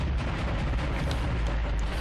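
Loud rumbling explosions from the Dead Space rail shooter video game, a dense, continuous booming roar with no clear breaks.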